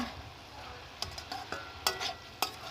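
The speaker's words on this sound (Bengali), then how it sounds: "আমি মূলো শাক আলু বেগুন ভালো করে মশলা দিয়ে কষিয়ে নেব" A spoon scrapes and clinks in a pan while radish greens, potato and eggplant with spices sizzle and fry, several distinct stirring knocks over a steady soft hiss, close by with no talking.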